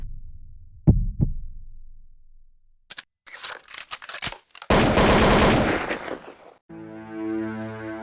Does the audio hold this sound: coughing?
no